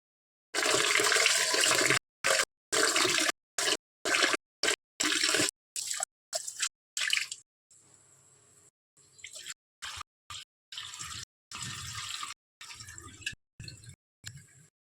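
Water splashing and pouring in short bursts, with a quieter stretch midway, as rice and split moong lentils for khichdi are rinsed twice and drained in a bowl.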